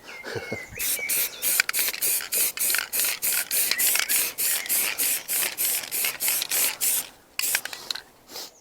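Light second coat of spray paint going onto a Triumph Sprint 900 motorcycle part, heard as a steady run of short, close hissing bursts with brief gaps, about fifteen in a row, no talking.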